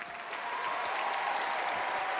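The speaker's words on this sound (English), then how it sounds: "give a big applause to the beautiful orchestra" A large audience applauds the orchestra at the Game Awards, a dense, even roar of clapping heard from a distance, with no voices standing out.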